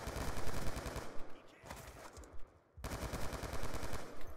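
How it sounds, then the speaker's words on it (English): Rapid hip-fired gunshots in Black Ops 2 crack out in dense bursts, loud and close, with a brief pause in the middle before firing resumes. "Okay, hip fire right there. A little bit of hip fire."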